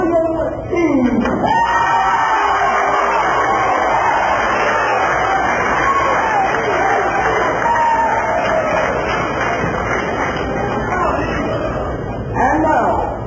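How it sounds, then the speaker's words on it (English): A boxing-event crowd at the Peabody Hotel cheers and applauds a challenger from Fayette, Alabama as he is introduced. The noise is a steady, dense wash of cheering and clapping that lasts throughout. "Ladies and gentlemen, a warm round of applause for William Eaves."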